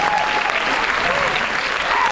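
Dense, steady applause from a concert audience in a Genoa theatre, continuous and loud throughout, with no pauses or talking.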